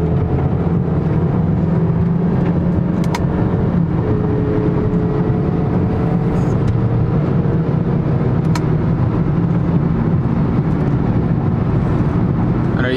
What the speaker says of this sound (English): Okay, so now we're driving on the actual road. I'm in manual mode, so I'll downshift a little bit,